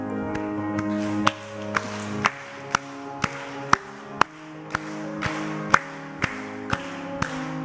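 A church congregation claps along in steady rhythm to a closing hymn during a Sunday morning service in Daegu, sharp regular claps over sustained organ and singing.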